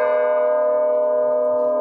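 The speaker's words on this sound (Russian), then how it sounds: "даже если ударить во все вместе колокола" Several church bells in Suzdal ring at once, blending into one sustained, even, ringing chord that hangs steadily without fading.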